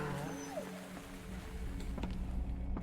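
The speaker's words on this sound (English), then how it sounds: "Hello, doggy." A dog gives a brief high whimper or whine over a dense bed of game music and ambient noise, faint and partly masked.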